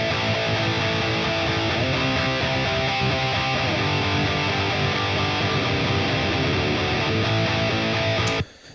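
Dense metal guitar tracks with no processing plugins, a thick sustained distorted wall filling the whole range, loud and continuous before cutting off abruptly at the end, with no voices.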